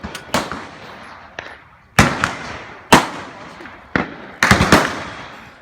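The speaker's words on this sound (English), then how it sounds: "Everywhere we could hear guns being shot." Gunshots at a shooting range, sharp sharp reports spaced about a second apart, some in quick doubles, loud and fairly near over a low background murmur.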